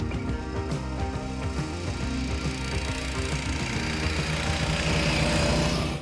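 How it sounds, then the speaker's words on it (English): Lifan engine, a copy of a Honda GX, running on a cheap snowmobile, a steady close mechanical chugging drone with a constant rhythmic knock, loud and unbroken. "this engine, Lifan, it's a copy of famous Honda GX engine."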